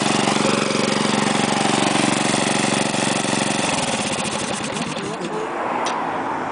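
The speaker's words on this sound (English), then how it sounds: "the motor goes into a lower idle" A 5hp Honda engine on a Craftsman air compressor idles steadily and loudly, its even throb dropping to a lower, rougher idle partway through.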